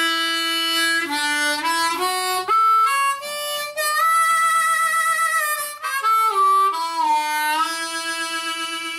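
A harmonica plays a solo melody alone, with sustained reedy notes, bends and slides between pitches, loud and close.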